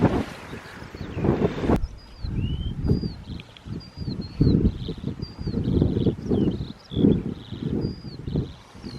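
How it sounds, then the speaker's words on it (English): Gusty wind buffets the microphone on an open hilltop meadow, rising and falling in loud rumbling bursts, with faint birdsong chirping above it. "It's very blowy, I know it's windy"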